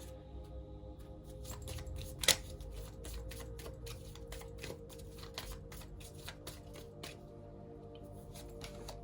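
Tarot cards are shuffled by hand during a love reading, giving a quick run of crisp, rapid riffling clicks and flicks, close and fairly quiet, with one sharper snap early on and no voice.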